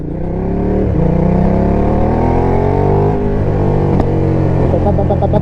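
A Ducati Diavel Carbon motorcycle's engine drones loud and close, its pitch climbing steadily as it revs, with a few sharp pops on top, heard while riding in traffic.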